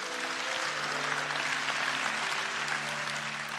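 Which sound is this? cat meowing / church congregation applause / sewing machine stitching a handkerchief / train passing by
church congregation applause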